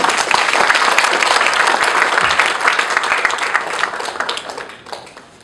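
A seminar audience applauds a speaker, a dense, loud burst of clapping from a full room that holds strong before tapering off toward the end.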